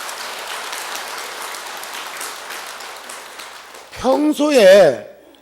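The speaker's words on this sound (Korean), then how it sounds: "여기도 계시고 박수 한번 보내주세요." Faint scattered applause from an audience at a Buddhist monk's dharma talk fills most of the span, then a voice speaks briefly near the end.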